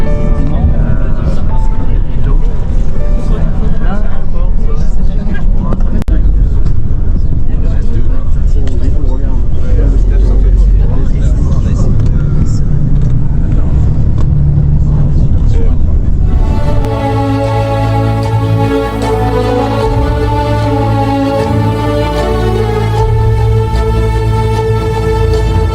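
A loud, continuous low engine rumble fills a crowded, hot bus cabin without air conditioning, and the tone shifts partway through as the engine changes gear or load.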